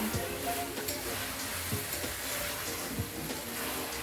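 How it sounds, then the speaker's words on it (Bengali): Food fries in a pan in a home kitchen on an evening, giving a steady close sizzle with occasional stirring scrapes and knocks. "এদিকে মায়ের ভাজাভাজি চলছে।"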